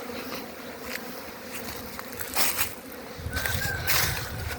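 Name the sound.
honey bees flying around apiary hives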